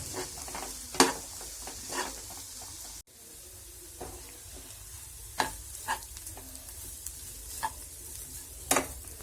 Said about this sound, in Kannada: ಇದನ್ನ ಈ ಥರ ಚೆನ್ನಾಗಿ ಮಿಕ್ಸ್ ಮಾಡಿಕೊಂಡು ಎಣ್ಣೆಲಿ ಚೆನ್ನಾಗಿ ಸ್ವಲ್ಪ ಫ್ರೈ ಮಾಡಿ